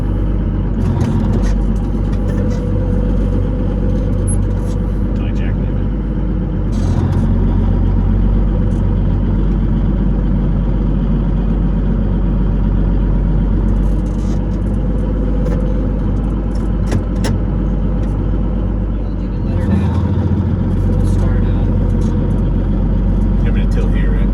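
A John Deere 8630 tractor fitted with a swapped-in Cummins Kinze Big Cam diesel works in a lawn, its engine a loud, steady, close rumble that lugs down under load across the whole span, with voices talking over it.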